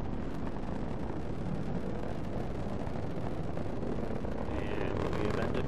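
Rocket engines at full thrust during the MAVEN launch, a continuous loud, broad roar that rumbles without a break.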